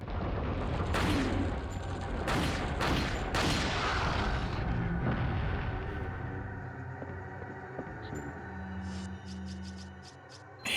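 A flashbang grenade going off in the PS2 game Resident Evil 4, a loud broadband blast amid sharp gunfire-like bursts and rumbling, then fading into a low hum with faint high clicks.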